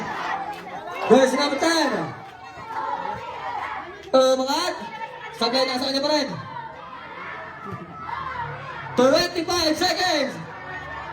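At a barangay basketball finals game, a crowd chatters and shouts in bursts, with laughter and excited voices rising and falling, while an announcer talks over them.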